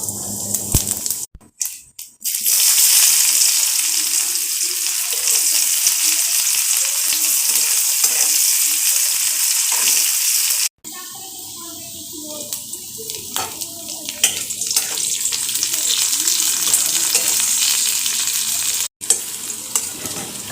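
White cumin seeds and onion hit hot oil left from frying potatoes and sizzle loudly and steadily in a home kitchen, with stirring scrapes and a few brief breaks.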